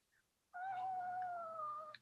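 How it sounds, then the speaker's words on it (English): A cat lets out a single long, drawn-out meow, clear and fairly close in a quiet room, holding its tone for well over a second before trailing off. "Kitty."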